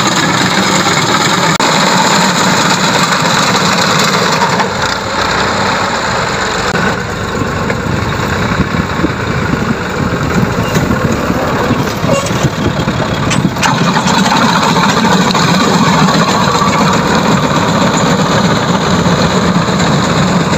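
Tractor-mounted reaper cutting a wheat field during harvest season, its engine a loud, steady, close drone that runs unbroken for the whole stretch, with no talk over it.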